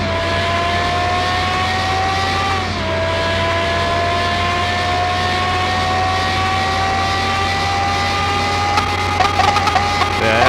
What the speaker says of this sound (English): Just redlining first, second, third.